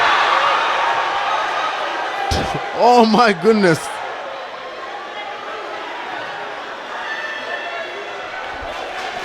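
A basketball crowd at a Kenya vs Burundi FIBA AfroBasket pre-qualifier game keeps up a steady arena buzz after a missed dunk, with a commentator's excited exclamation briefly rising over the murmur.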